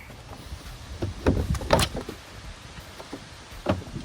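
Rubber grommets let go as an air box is pulled from the engine bay of a Chevy Impala with the 3.6L V6: a few close scraping, thumping knocks in bursts, with no talk.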